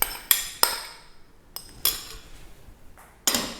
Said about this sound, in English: and I will mix everything well.